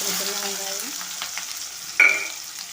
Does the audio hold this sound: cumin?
yes